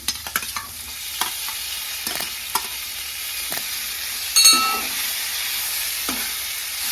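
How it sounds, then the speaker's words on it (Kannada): Tomato and onion frying in a pan for rice chitranna, a steady sizzle with scattered scraping stir strokes and a brief louder burst of crackle midway. "ಟೊಮೆಟೊ ಹಾಕೊಂಡು 1 ನಿಮಿಷ ಫ್ರೈ ಮಾಡ್ಕೊಂಡಿದ್ದೀನಿ"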